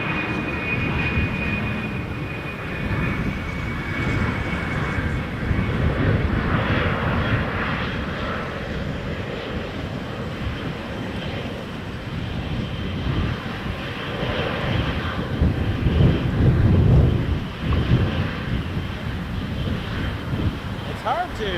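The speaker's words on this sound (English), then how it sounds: "That sounds like a 777 engine." A Boeing 777 jet engine roars steadily in the distance at Toronto Pearson Airport, a broad rumbling drone with gusty wind noise over the microphone throughout.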